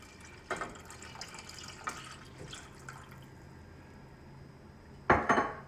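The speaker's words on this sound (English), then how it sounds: "We will continue to stir until it comes to a boil" Lasagna sauce stirred in a pot, with a utensil clinking and scraping against the metal in a few sparse strokes, the loudest cluster of knocks coming right at the end, all close and with no talking.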